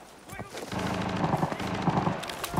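Video game gunfire fired from the hip, a steady close rattle of rapid shots over roughly two seconds, with game noise around it.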